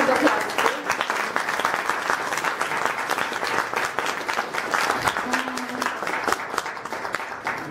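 A hall audience applauds steadily and densely throughout at a Polish theatre awards presentation for the Kryształowy Świecznik prize, with a voice speaking briefly over the clapping.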